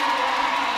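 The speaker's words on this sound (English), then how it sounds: "The cheer behind us here is the Bahamians getting into view on the big screen" A loud, steady roar of Bahamian spectators cheering in the stadium at the World Athletics Relays in the Bahamas in 2024, a dense wall of crowd noise with no gaps.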